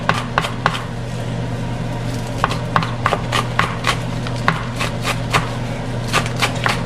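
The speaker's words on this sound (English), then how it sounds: "go ahead and chop the green onions nice and finely" Green onions are finely chopped with a knife on a cutting board: a steady run of close, crisp knocks with uneven spacing over a constant low kitchen hum, no talking.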